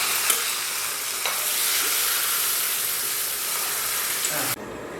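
Sizzling tempering is poured over green chilli chutney and coconut chutney, a loud close crackling hiss with a few sharp pops that holds steady and then cuts off abruptly near the end.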